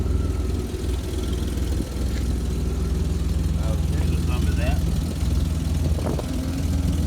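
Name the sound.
old Honda truck engine running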